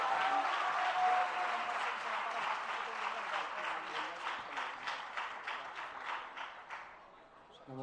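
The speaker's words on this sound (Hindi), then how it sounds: "लेकिन एक बार तालियां सबके लिए जोरदार।" Audience applause at a Jain religious question-and-answer gathering in Agra, a dense crowd clapping that gradually thins into distinct rhythmic claps and fades out, heard at moderate distance in a large hall.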